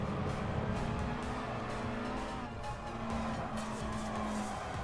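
A car sliding with tire skid in Gran Turismo Sport during a Clubman Cup race: a steady engine drone with a sustained squealing tone that wavers and breaks off, over continuous road noise.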